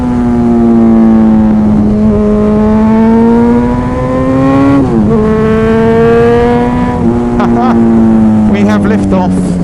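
A bike the rider built himself, nicknamed The Punisher, revs hard on its first ride, a loud continuous engine note climbing and shifting in pitch, dipping briefly at each gear change as the front end lifts into a wheelie.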